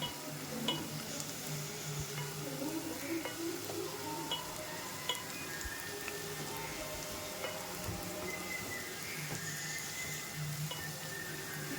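Onion and tomato sautéing in a pan for tomato kulambu give a soft, continuous sizzle with occasional stirring scrapes, fairly quiet and without talk.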